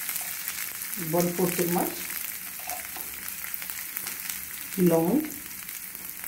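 Whole spices, including cloves and green cardamom, sizzle and rattle as they roast in a pan for sambar, in two short bursts of stirring over a low background, with a person speaking between them.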